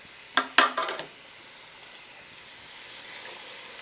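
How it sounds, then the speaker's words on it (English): White or yellow onion, green onion and jalapeno drop into a hot skillet with a few sharp crackling bursts, then settle into a steady, soft hiss of sizzling that slowly swells. "in the same skillet, we're going to add our veggies. That's the white onion or yellow onion, green onion, and jalapeno"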